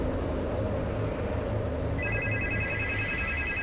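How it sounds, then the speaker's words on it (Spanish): A telephone rings in the video game Supernormal, a steady electronic ring tone that starts partway through over a loud continuous background hum, with no talk. "Teléfono."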